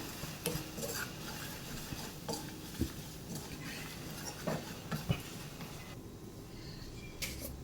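Grated coconut and chili roast in a pan on the stove and are stirred with a spoon, making soft, repeated scraping strokes and faint clinks over a quiet, low sizzle.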